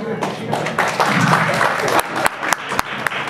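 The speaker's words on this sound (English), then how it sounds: "A round of applause, please." An audience at a Bengali New Year event breaks into applause, a dense wash of clapping that swells and then thins into a few sharp individual claps near the end.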